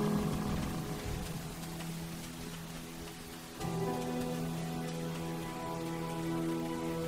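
Steady rain pours down in the PS3 game Rain, a continuous hiss of drops on surfaces under soft, sustained musical tones, with a slight shift in texture midway.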